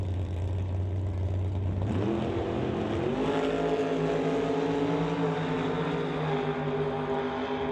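Brad Powell's Chevelle drag car rumbles at a Door Slammers qualifying event, its engine idling low and then climbing in pitch in stepped surges, loud and fairly close with no talk.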